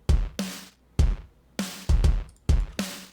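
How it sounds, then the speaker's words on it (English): Layered Bitwig drum samples from Native Instruments Complete play a punchy pattern: deep kicks and sharp snare hits in a steady groove, each hit decaying quickly, close and clear with no voices. "The other drums sound like this."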